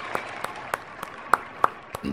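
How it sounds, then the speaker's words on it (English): A small audience claps sparsely, a handful of separate claps spaced about a third of a second apart, fairly close and moderately loud, before a brief burst of noise at the end. "we got to get this guy a clap, man"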